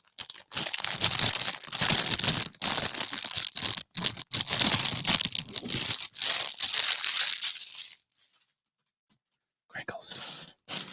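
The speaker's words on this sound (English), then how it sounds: "Crinkles." Plastic crinkles loudly and up close in long, continuous bursts with short gaps, then goes quiet before a final brief rustle.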